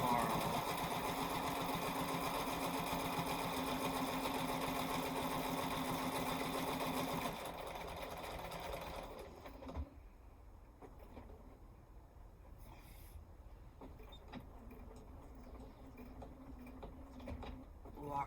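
A sewing machine stitches quilt fabric with a close, steady whirring drone for several seconds, then stops, leaving lighter handling clicks and rustles.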